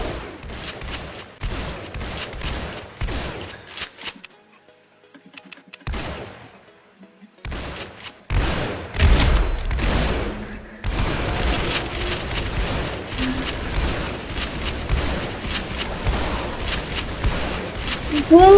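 Rapid gunfire from shotgun-armed towers in the Roblox game Tower Defense Simulator, loud, dense and repeated bursts that drop out briefly in the middle, with a game music bed and occasional talk over it.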